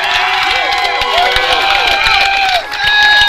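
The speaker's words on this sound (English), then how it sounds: "let's have a big round of applause for both of the fighters in this cage" A crowd at a kickboxing championship cheers and applauds both fighters in the cage, producing a loud sustained roar with whistles and shouts that briefly dips and then swells again.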